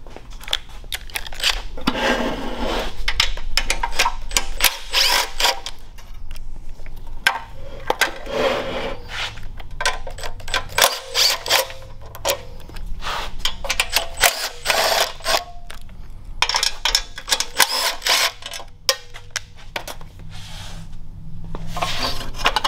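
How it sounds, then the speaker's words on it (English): A socket wrench works four 6mm bolts loose from the flywheel shroud of a Tillotson 212 small engine, giving a continuous close rasping and ratcheting clatter with scraping and tool handling throughout, no voices. "It's going to be 4 6mm bolts. You're going to use an 8mm socket."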